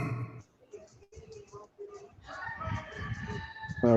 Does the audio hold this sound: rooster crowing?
yes